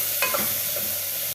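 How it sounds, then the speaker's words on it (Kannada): Green peas fry in hot oil for bisibelebath, a soft close sizzle with a couple of light stirring scrapes near the start. "ಇವಾಗ ಚೆನ್ನಾಗಿ ಫ್ರೈ ಮಾಡ್ಕೊಳ್ಳೋಣ ಎಣ್ಣೆಯಲ್ಲಿ."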